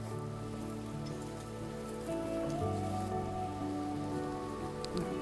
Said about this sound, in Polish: Deszcz.